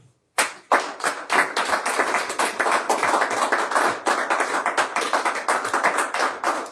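A church congregation breaks into loud applause after a sermon line, many hands clapping steadily and close, sustained for several seconds without talk.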